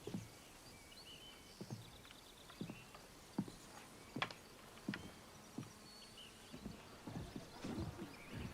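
Horses clip-clopping in a steady series of sharp hoof strikes, moderately close and fairly faint, with a few louder hits near the middle and faint insect-like buzzing in the background.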